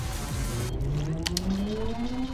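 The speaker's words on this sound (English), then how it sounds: "Why is that truck so loud?" Loud engine-like drone of a truck in the platform video game Pizza Tower, with rising pitch sweeps and a couple of brief bright bursts, continuous and alone throughout.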